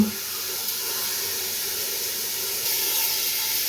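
Onions lightly frying in a pan until light brown, for chicken samosas: a steady, soft, close hiss of sizzling that holds evenly and grows slightly louder toward the end, with no voices.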